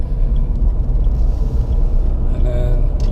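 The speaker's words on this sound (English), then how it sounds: "I'll drop it down from 4th to 2nd" A car on a driving-test route downshifting from fourth to second gear, its engine a loud, continuous low rumble close by, with a faint voice underneath.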